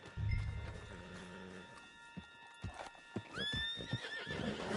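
A horse in the Red Dead Redemption 2 game clip-clops at a quick pace, then lets out a loud, rising whinny, with galloping hooves continuing underneath.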